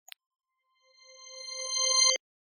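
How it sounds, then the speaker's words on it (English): A reversed bell chime used as a cue for a reversed hidden word in a cryptic crossword: the tone swells up gradually from silence and then cuts off abruptly, heard alone. "this is the sound of a reversed hidden"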